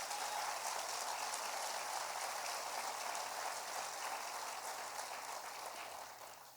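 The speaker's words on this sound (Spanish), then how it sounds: "Si usted lo cree, déle un fuerte aplauso a Jesús." A church congregation applauds at a Christian sermon, a dense, steady wash of clapping from many hands that fades slightly toward the end.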